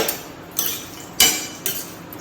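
Spoon mixing chopped onion and tomato in a cooking pan, a few scraping metallic knocks and clinks spaced irregularly over a steady background hiss.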